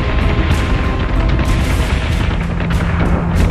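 Heavy ship guns in the Battlestar Galactica Deadlock space combat game fire again and again, a dense, loud barrage of booming blasts with sharp repeated cracks over a constant low rumble.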